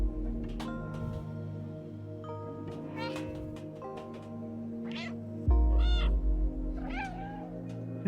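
A cat meows repeatedly in the video game Stray, a series of distinct, clear meows spaced a second or so apart over a steady game soundtrack, with one louder thump midway, no speech.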